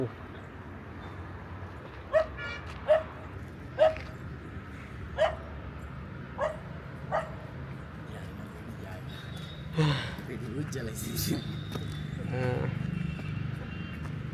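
A dog on a hilltop cattle farm barks about six times in a loose, irregular series of sharp, moderately distant barks, then falls quiet while people talk and low background noise continues.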